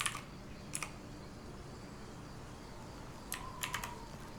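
A handful of sharp computer keyboard key presses, a pair near the start and a quick cluster near the end, clicking close and clear over a quiet background hum with no talking.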